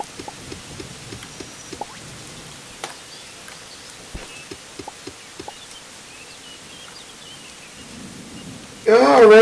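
Game rain from Starbound falls as scattered drops and soft patter across a quiet outdoor scene, with faint distant rumbles, before a louder burst of other sound swells in at the very end.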